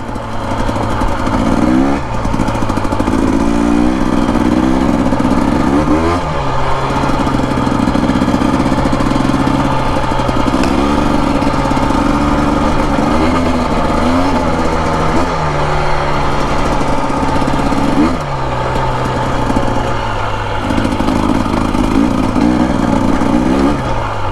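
A 2025 Husqvarna TE250 dirt bike ridden on desert trails, its engine buzzing loudly and continuously with rising and falling revs and throttle blips, close to the rider.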